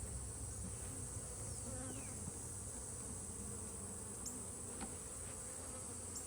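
Honeybees buzz steadily at an open hive during a beekeeping inspection. The hum is continuous and fairly faint, and a few individual bees fly close past.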